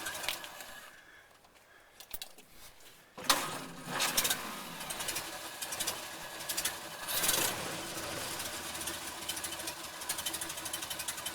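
A Ford Model A engine idles steadily after a quiet start, a busy mechanical clatter with a rapid chugging rhythm, close by and fairly loud.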